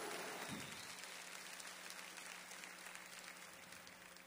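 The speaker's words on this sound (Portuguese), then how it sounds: "Dá um forte aplauso para Jesus." A church congregation claps for Jesus during a worship service, a faint, distant wash of applause that continues evenly under a low steady hum.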